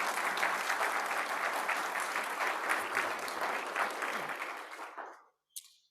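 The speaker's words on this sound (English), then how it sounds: "I'd like to ask you to give them a round of applause for the 3 winners" Audience applause at a NASA space technology meeting, a dense, steady round of clapping from a room full of people that holds for about five seconds, then fades out with one brief late clap.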